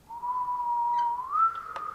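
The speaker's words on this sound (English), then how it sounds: "You suck at whistling." A person whistles a single sustained note that holds steady, then slides upward to a higher pitch near the end, clear and fairly close against a quiet background.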